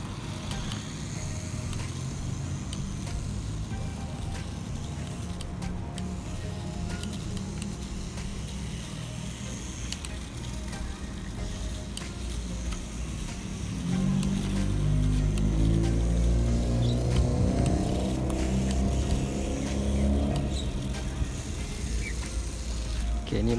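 A 1/32 scale mini RC truck runs at low speed, its small electric motor giving a steady buzzing whine that grows louder and rises in pitch partway through. Background noise sits under it.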